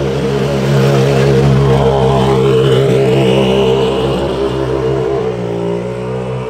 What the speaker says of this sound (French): le son au ralenti des voitures de rallye est juste dingue